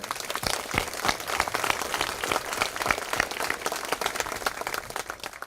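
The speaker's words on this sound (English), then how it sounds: "I'll lead a round of applause for all of you who have put this on for us today." Audience applause at a 2018 Veterans Day ceremony in Cupertino: a crowd claps steadily for several seconds, with sharp individual claps standing out against the broad, even wash of hands, no talking over it.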